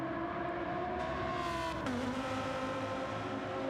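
A racing car engine in Gran Turismo 7 holds a steady, high-revving whine. Midway the pitch drops sharply as it shifts up a gear, then it climbs again in a smooth, continuous drone.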